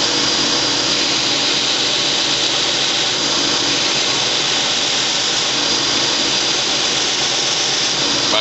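Grinder working a steel kukri blade prototype, a loud, unbroken broadband hiss and whir that holds steady throughout with no pauses and no talk.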